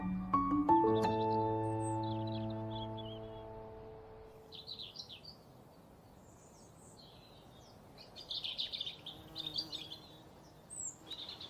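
Birds sing in a garden with faint, scattered high chirps and tweets that grow busier toward the end, following a fading sustained musical tone at the start.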